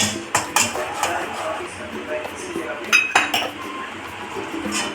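Amul milk powder being stirred into milk in a pot, giving a few sharp metallic clinks and scrapes of a spoon against the pot at the start and again midway, over a low background.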